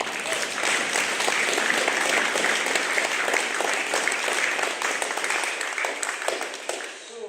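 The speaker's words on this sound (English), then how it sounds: "Let's give another round of applause." An audience at an environment and social responsibility awards ceremony applauds steadily after a speech, a dense wash of clapping that eases off near the end.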